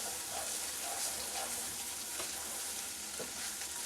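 Noodles being stirred around a hot pan, a steady broadband sizzle and frying hiss running throughout with a few soft scraping strokes from the stirring, close and continuous with no voices.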